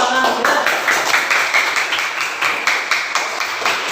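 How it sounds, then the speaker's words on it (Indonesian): A group in an Indonesian teacher-training classroom claps together after a group's answer. The steady, crackling applause runs for about four seconds, with a voice briefly audible at the start. "Mereka tepuk tangan kita."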